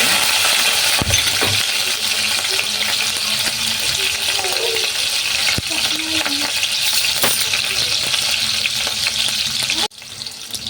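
Four finely chopped green chillies hit hot oil with cumin seeds for a farali misal, giving a loud, steady sizzle with occasional spoon clinks and stirring, until the frying suddenly quietens near the end.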